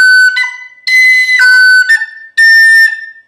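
Tin whistle plays a phrase of The Connachtman's Rambles in D, alternating slurred and tongued notes in three bright bursts with short gaps between them.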